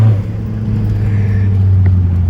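Volkswagen Polo 1.9 TDI diesel engine pulling hard under acceleration, a loud, steady low drone heard from inside the car with no one talking.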